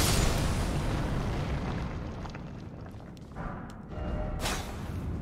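A trap explosion in the video game Elden Ring gives a loud, broad booming burst up front that rumbles and decays over several seconds, followed by scattered smaller impacts and clatter.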